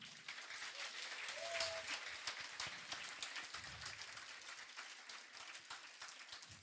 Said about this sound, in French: Est-ce qu'on peut juste faire un tonnerre d'applaudissements pour toute l'équipe?